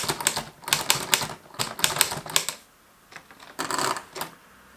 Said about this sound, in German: Hört sich an wie eine richtige Schreibmaschine, ist echt cool gemacht.